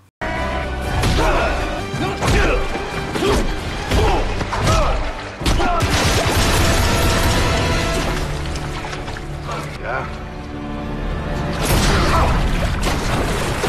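Bombs going off one after another in an action film's climax, a dense run of loud crashing blasts and thuds with rumbling debris and swooshes layered over a constant music-and-effects mix.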